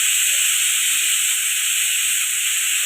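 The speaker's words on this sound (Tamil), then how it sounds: "அதுக்குள்ளே விசில் வந்துடுச்சு." Pressure cooker whistle releasing steam while chicken gravy cooks, a loud continuous hiss that holds steady and alone throughout.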